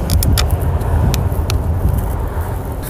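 A car drives along with a loud, steady rumble of engine and road noise close by, broken by a few sharp ticks and rattles inside the cabin.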